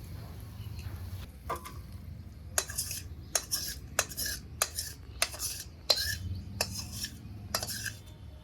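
Cooked drumstick curry is scraped out of a wok with a metal spatula, giving a run of sharp, evenly spaced clanks and scrapes, moderately loud over a quiet background, with a faint hum at the start.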